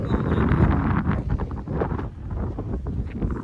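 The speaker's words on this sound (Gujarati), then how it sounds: "હવે પવન હે ભાઈ જોરદાર એમાં સંભળાતો" Gusty wind buffets the microphone in a continuous low roar, strongest at the start and easing slightly before picking up again.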